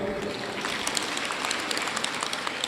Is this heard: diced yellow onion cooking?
no